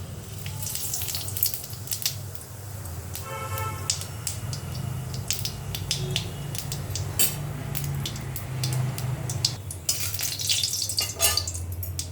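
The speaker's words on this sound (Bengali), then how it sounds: "তেল গরম হয়ে গেছে দিয়ে দেবো জিরে ফোড়ন" Cumin seeds and potatoes going into hot oil, making a steady close sizzle and frying hiss with intermittent stirring scrapes and utensil clatter, growing busier toward the end.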